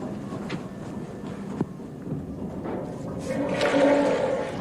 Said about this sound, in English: You've managed to reserve the noisiest compartment on the train.